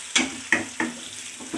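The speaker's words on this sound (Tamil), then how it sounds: "தேங்காய் பாருங்கள் நல்லா வறுபட்டுருக்கு" Grated coconut being roasted and stirred in a pan for a moong dal and sago payasam: five distinct scraping strokes with light sizzle, evenly spaced and close by.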